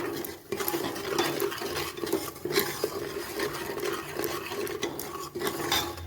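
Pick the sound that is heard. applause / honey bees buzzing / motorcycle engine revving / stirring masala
stirring masala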